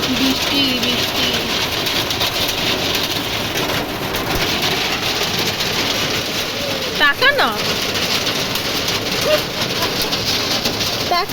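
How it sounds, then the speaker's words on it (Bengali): Steady rain pours outdoors at Santiniketan, a dense, continuous hiss that runs the whole time, with a person speaking briefly over it. "বৃষ্টি বৃষ্টি"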